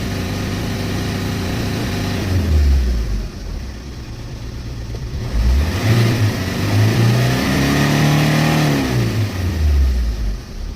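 A Chevrolet Enjoy car engine is revved to warm it up, rising and falling through several drawn-out revs over a steady idle, loud and close with no talking.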